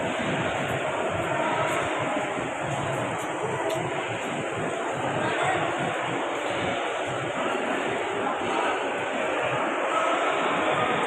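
Busy Lahore railway station, the largest in Pakistan, with a dense, steady wash of crowd noise and rumbling train sounds filling the space throughout, with no clear voices standing out.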